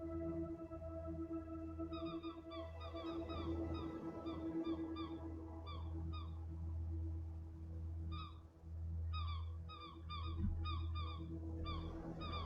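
Flocking seabirds calling in the survival sailing game Escape the Pacific: repeated short, high, squeaky cries arrive in quick clusters over a steady low hum of wind and water, some clearly nearer than others.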